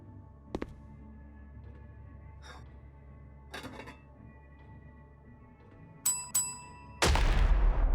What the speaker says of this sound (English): A bell? What does that mean?